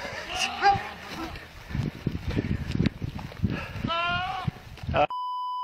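A very upset goat in a backyard lets out loud, strained bleats that sound like a person yelling for help, mixed with background noise, voices and a short electronic beep at the end.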